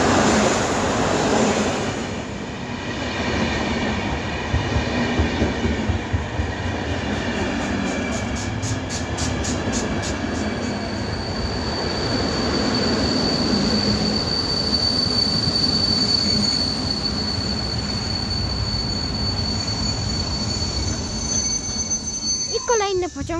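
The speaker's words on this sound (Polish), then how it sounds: "Będzie Intercity Podlasiak, relacja Świnoujście. Suwałki jako EU160." An Intercity Podlasiak passenger train hauled by an EU160 electric locomotive passes at Wołomin, with loud continuous rail rumble, clattering wheels and a sustained high wheel squeal, close and steady throughout.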